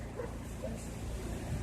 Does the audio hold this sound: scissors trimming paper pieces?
no